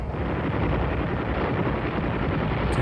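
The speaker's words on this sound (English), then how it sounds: "That sounds like gunfire." Distant wartime gunfire and rumbling blasts in the video game Oxenfree, a continuous dense, booming roar with no pauses and no voices.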